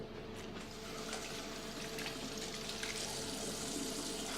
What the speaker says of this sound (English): So what we need now is a bit of water in the pan.